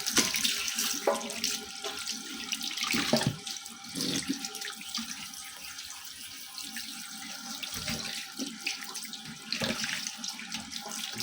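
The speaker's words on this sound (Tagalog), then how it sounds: "Ganito yung paghugas ng pato." Running tap water splashes continuously while a whole duck is rinsed and rubbed under it, with intermittent thumps and shifts in the flow.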